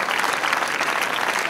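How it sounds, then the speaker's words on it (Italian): An audience claps in a dense, steady burst of applause that is loud and close, sustained through the short stretch without a break. "Facciamo un applauso a questi ragazzi, dai."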